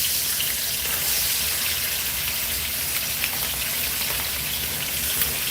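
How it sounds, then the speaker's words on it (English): Steady, dense crackling sizzle of hot oil in a pan for stir-fried rice, constant and fairly close, with no voices. "You want that sizzle."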